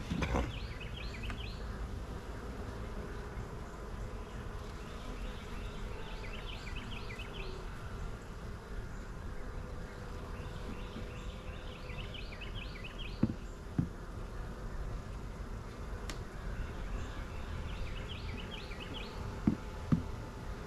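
Honeybees hum softly around a weak hive near a tree line outdoors, a faint steady buzz with occasional chirping birds and a few light knocks.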